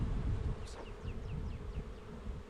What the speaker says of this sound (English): I'm gonna knock the rest of these bees off inside of it.